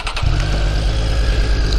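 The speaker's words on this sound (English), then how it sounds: "it's actually a good chance for you guys to hear the exhaust actually" A 2019 Triumph Street Triple RS motorcycle engine cranks and catches, settling into a loud, deep rumbling idle from the exhaust, close by.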